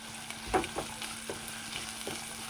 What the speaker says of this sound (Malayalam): പിന്നെ ഇതിലേക്ക് ഉള്ളി ഇട്ട് കൊടുക്കാം. ചെറുള്ളിയാണ് കേട്ടോ.